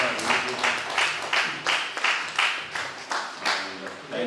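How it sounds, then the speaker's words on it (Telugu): A crowd at a yoga day event gives a guest a short round of applause, steady pulsing waves of clapping at moderate volume lasting a few seconds. "give him a big applause"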